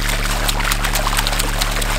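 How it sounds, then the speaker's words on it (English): A small child paddles and splashes in a swimming pool during a swim lesson, a steady wash of choppy splashing water with repeated little slaps, close and fairly loud. "Paddle splash."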